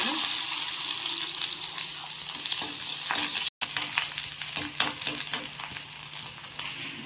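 Small onions and garlic cloves sauté in a hot pan with a continuous crackling sizzle, punctuated by scraping stirs and a brief cut in the sound midway, and no talking.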